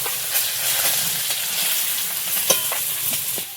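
Bitter gourd fries in oil in a wok, a dense continuous sizzle close to the listener, with faint scattered spatula clicks and no talking.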